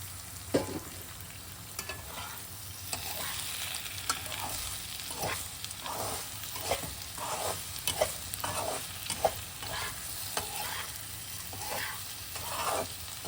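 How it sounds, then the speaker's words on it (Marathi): Sweet potato slices with sugar caramelizing in a pan, a soft steady sizzle punctuated by repeated scraping stirs of a spatula at a fairly regular pace, heard close and quiet with no talking. "हे बघा कॅरमलाइज झाली की नाही आपली साखर"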